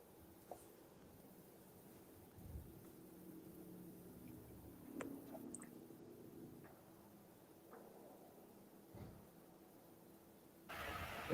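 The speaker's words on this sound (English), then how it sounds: "It's a motorcycle gang." Motorcycles of a passing biker gang rumble faintly in the distance, engines swelling and fading over several seconds against outdoor ambience.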